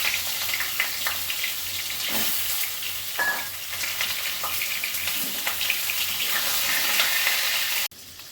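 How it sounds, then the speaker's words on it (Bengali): Pointed gourds (potol) fry in a pan for a curd-based curry, a loud, steady oil sizzle with occasional stirring scrapes, cutting off sharply near the end. "পটলগুলো ভেজে নিচ্ছি"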